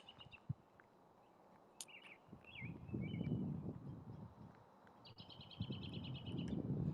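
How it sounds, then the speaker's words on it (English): Small birds chatter and chirp at sunset in snowy Snohomish, Washington, their short, bright calls scattered and faint over a soft low rumble of wind. "it's just nice to hear the chatter of the birds"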